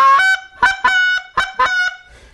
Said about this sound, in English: Actually, this is a loudmouth call.